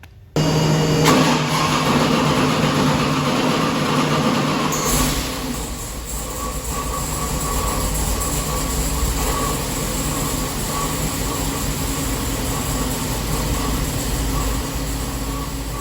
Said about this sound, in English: Now that I have the base tune loaded up, timing is set, idle is coming into place, we can start breaking this motor in.